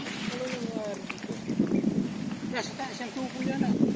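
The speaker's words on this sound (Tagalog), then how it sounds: "Malakas ang hangin" Steady strong wind rumbles and buffets the microphone outdoors on a farm plot while people talk over it.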